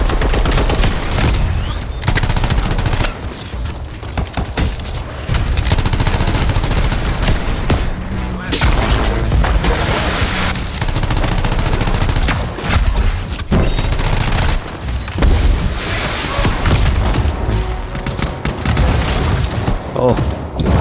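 Rapid, continuous gunfire from weapons shooting fire and ice in the video game Anthem, with dense bursts and booming impacts sounding loud and close throughout, layered with game effects and a voice talking over it.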